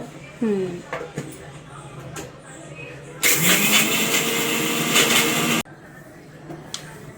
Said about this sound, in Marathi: मिक्सरला थोडंसं सुंठ, जायफळ आणि वेलची वाटायची